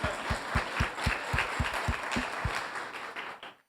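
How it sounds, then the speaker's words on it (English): Audience applause at a first-anniversary celebration, dense broadband clapping with a few sharp individual claps standing out, steady for about three seconds before tapering off. "an applause for them as well."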